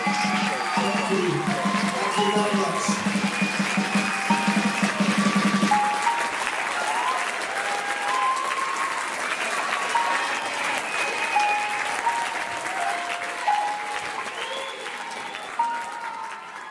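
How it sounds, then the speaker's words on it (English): Audience applause at an expo talk, a steady dense clapping from a crowd that fills the room, loud and sustained for most of the stretch before easing off slightly toward the end. "thanks for the applause"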